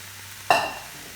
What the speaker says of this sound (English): we're going to add the meat and cook it in there